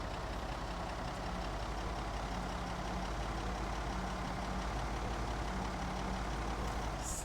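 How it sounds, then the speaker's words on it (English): A car engine in the Project Zomboid Build 41 video game drones loudly and steadily at a low pitch, with a constant rumble and no talking. "Still like the engine noise is just so loud."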